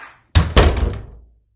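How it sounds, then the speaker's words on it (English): A door thuds shut with a solid wooden thunk, two close heavy impacts followed by a short rattling decay, loud and near with no other sound. "Then God shut the door."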